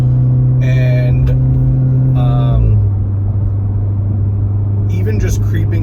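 A modified MK7 VW Golf R making around 400 horsepower hums with a steady, loud engine drone heard from inside the car, its tone dropping as the throttle eases off boost partway through, with a voice talking over it.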